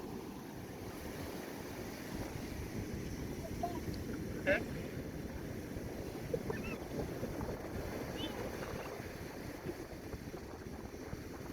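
Low, rumbling wash of sea waves and wind buffeting the microphone, continuous and fairly faint, with a few soft distant splashes.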